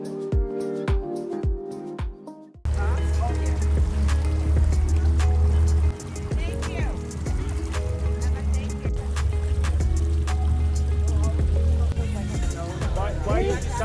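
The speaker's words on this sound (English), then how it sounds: "we boated from Turkey Point east to Port Dover" A boat travels on Lake Erie from Turkey Point east to Port Dover with a steady low engine rumble and water and wind noise, loud and continuous, with people talking over it.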